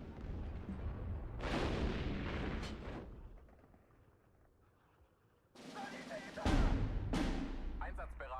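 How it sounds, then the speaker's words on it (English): Big artillery guns fire in the World War II strategy game Steel Division 2, heavy booming blasts in two clusters with a quieter gap between them, and a voice is heard speaking over the later shots. "Get to see the big guns firing away for once."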